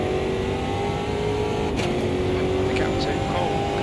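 A stock car's engine in Automobilista 2 drones steadily at high revs on the Jacarepaguá circuit. The note holds under steady throttle with small rises and dips, and a voice talks over it.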